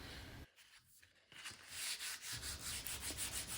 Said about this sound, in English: I found some 80 grit sandpaper that we had, and I sanded all the varnish off the wood